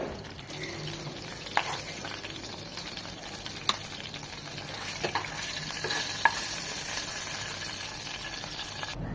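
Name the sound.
frying potato with boal fish in leftover oil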